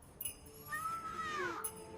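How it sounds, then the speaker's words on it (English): A cat gives a single drawn-out meow with a rising then falling pitch, fairly soft and close, under a quiet musical background in a gentle story setting. "Meow."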